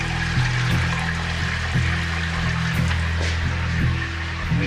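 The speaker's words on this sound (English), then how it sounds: "we fill that up with some soap and water" Water running into a kitchen sink with soap while quinoa is being cooked: a steady pouring rush over a low hum, with small rhythmic clicks and pulses repeating throughout, close and moderately loud.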